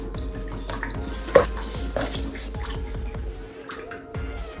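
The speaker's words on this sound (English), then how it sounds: "We'll mix this for the yolk to dissolve." Large eggs being mixed for donut dough in a bowl, with a series of soft, wet stirring and clinking sounds, one sharper clink near the start, close and fairly quiet.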